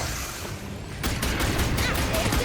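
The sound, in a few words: pulse gun firing in Starship Troopers Ultimate Bug War video game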